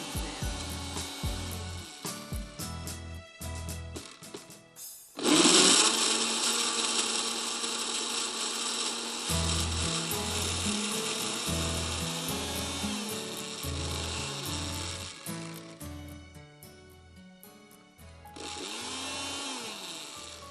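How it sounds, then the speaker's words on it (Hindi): A kitchen blender grinds ice cream for a blueberry drink, loud whirring that surges in bursts with brief stops, then runs in a long continuous spin before pulsing again. "आइसक्रीम को अच्छी तरह पीसना है।"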